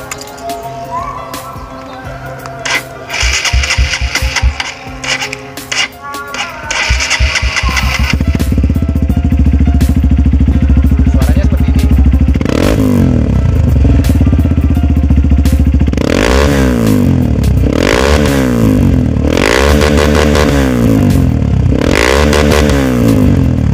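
A Honda CRF150 dirt bike engine sputters as it is kicked over, then catches and settles into a loud idle, broken by several sharp revs near the mic.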